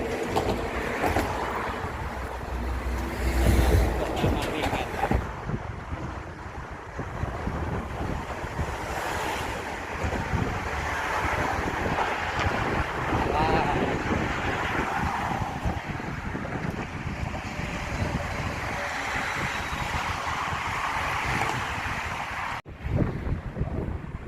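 Wind sweeps across a sea-crossing bridge in Bahrain, a constant loud rush and buffeting against the microphone, mixed with a surf-like roar of the sea below and no voices.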